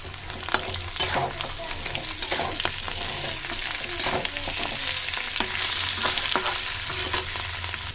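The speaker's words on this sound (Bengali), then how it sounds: "হলুদ দিয়ে এখানে ভালো করে ভেজে নেব।" Potatoes frying with turmeric and salt in a pan give a steady, close sizzle with scattered crackles and occasional stirring scrapes, continuous throughout with no talking.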